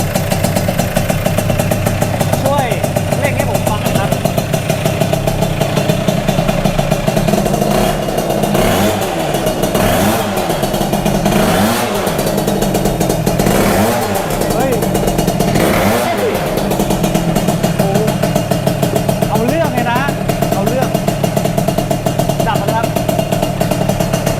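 A Yamaha Mio scooter fitted with a KR cylinder head runs close by, its engine idling with a rough clatter and blipping up in several sharp revs, with voices talking over it throughout.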